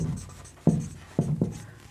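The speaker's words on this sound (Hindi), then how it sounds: "तो लिखते हैं, पहला पॉइंट लिखेंगे हम समतल दर्पण से" Marker or chalk writes on a board during a physics lesson on plane mirrors, giving a few soft, quick taps and strokes up close against faint room noise, with no talking.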